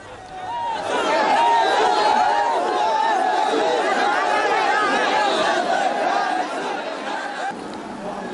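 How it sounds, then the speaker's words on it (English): Burmese migrant workers form a dense crowd at Mahachai Market, their shouting and chatter sustained and loud, a continuous babble of many voices close by that eases slightly toward the end. "a crowd of Burmese migrant workers were shouting "Ame Su," which means Mother Su"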